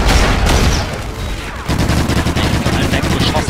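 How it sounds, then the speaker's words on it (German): Rapid automatic gunfire rattles loudly in the multiplayer video game Call of Duty Ghosts, with dense bursts of shots, a brief dip in the middle, then more sustained firing. "ich habe einfach mal ins Leere geschossen jetzt hier so"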